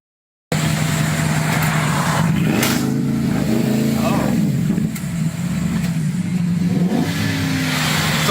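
A car engine revs hard in a street rev-off, loud and close, with repeated rising and falling vroom throughout and brief voices mixed in. One engine sounds worn, as if it needs new piston rings.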